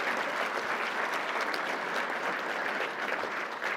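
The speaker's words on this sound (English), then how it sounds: "give her another round of applause before she leaves" A steady round of applause from the audience at a grain markets outlook talk in Champaign, Illinois, dense and even clapping that holds at full strength for the whole span with no voices on top.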